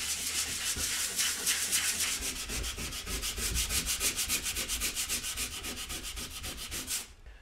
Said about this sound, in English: you can feel where dints are when you use sandpaper, as I am